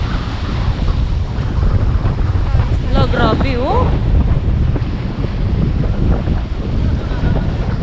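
Wind buffets the microphone while waves slap and crash against a small boat on rough, dirty water, a steady roar throughout with a few short spoken words partway through.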